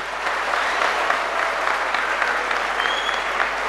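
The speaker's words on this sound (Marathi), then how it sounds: "टाळ्या वाजवा त्याच्यासाठी." An audience at a junior college speech event breaks into steady, dense applause, loud and sustained throughout with no gaps.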